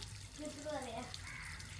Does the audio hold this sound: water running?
yes